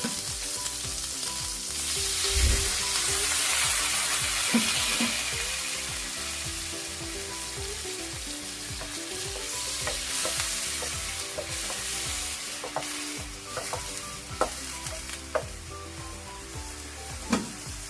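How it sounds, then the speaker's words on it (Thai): Cauliflower florets cook with a splash of water in a pan for a shrimp stir-fry, giving a loud, steady sizzle and hiss that later settles, with scattered spatula scrapes and taps toward the end and no talking. "เราใส่ดอกกระหล่ำลงไปเลยค่ะ แล้วก็ใส่น้ำลงไปนิดนึงนะคะ"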